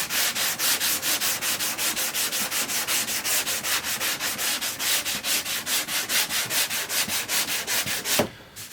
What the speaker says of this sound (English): now again, you want to sand from the center out